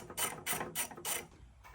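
A 10 mm socket ratchet clicking as it removes a car's top cover: four quick bursts of rapid ratcheting close up, then a brief pause and the start of another.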